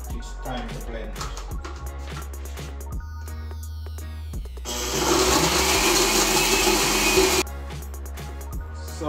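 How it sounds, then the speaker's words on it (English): A blender whirs loudly for about three seconds while mixing a Jamaican sweet potato pudding batter with coconut milk. Kitchen clatter and a voice come before and after it. "Now it's time to blend."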